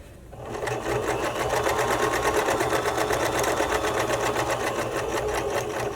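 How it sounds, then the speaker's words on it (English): A sewing machine stitches elastic onto a bra, starting after a brief pause and then running at a steady, fast, close hum with a rapid needle rhythm. "Leave my needle down, give myself one more pivot, and stitch back to where I've started."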